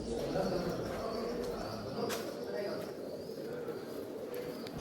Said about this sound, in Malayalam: നിറയെ പ്രാവുകളുണ്ട് കേട്ടോ